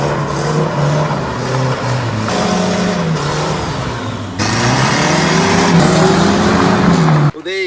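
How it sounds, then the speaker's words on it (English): A Datsun 1500 ute with a newly replaced clutch and clutch master cylinder makes its first drive in 20 years. The engine drones loud and close, its pitch rising and falling as revs change, before an abrupt cut near the end. "That's the first drive of the Datsun ute in 20 years."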